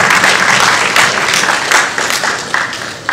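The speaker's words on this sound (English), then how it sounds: "So can you please give a round of applause to the panelists?" Audience applause for panelists at an agribusiness conference in Sierra Leone, a dense steady clapping from a crowd that holds for about three seconds with slight surges.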